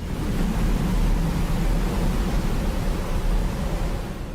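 Water pours down the tallest artificial waterfall ever built, a 108-metre fall on a skyscraper, as a dense, steady roaring rush that holds loud and unbroken throughout.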